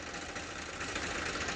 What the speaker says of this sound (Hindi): देखिए दोनों ट्रैक्टर स्टार्ट है अभी।